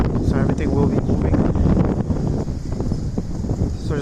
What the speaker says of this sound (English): It is really windy here, by the way, so everything will be moving.